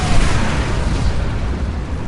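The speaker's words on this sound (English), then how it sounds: "It basically blows up my half of the battlefield." Explosions in the StarCraft 2 Desert Strike game blow up half the battlefield as a continuous, loud, rumbling blast with a deep low roar that fades slightly toward the end.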